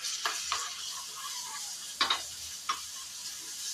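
Batter-coated potato vada mixture being stirred and sautéed in hot oil in a pan, with a steady soft sizzle and a few sharp scraping taps of a spoon against the pan.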